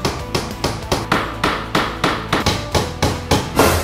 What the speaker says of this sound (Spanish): Vamos al siguiente paso, que es clavar nuestra repisa para vinos.